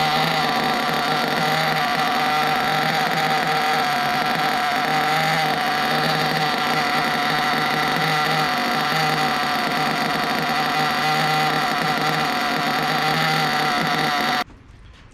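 A small nitro engine runs during break-in with a loud, continuous, high buzzing drone that holds steady, then cuts off abruptly just before the end.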